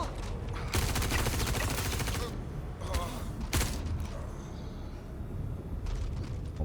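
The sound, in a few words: gunfire in the video game Star Citizen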